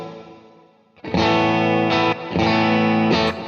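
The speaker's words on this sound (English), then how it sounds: "Bridge pickup, short reverb." Electric guitar on the bridge pickup with a short reverb, rich distorted chords ringing out loud and close after a quiet fading tail, with brief shifts between strummed chords.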